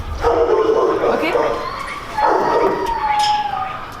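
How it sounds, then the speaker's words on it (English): A shelter dog in a cage lets out two long, whining, yelping vocalizations close by, with a person talking over them. "So that's a pretty friendly dog."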